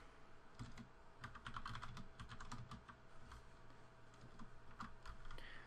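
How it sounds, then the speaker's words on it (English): Keys clatter on a computer keyboard in quick, uneven bursts of close, soft taps with short pauses between runs, over a faint room hum. "I'll type this as well."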